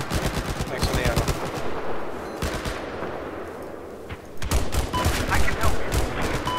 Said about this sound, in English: Oh hey, someone's shooting at me.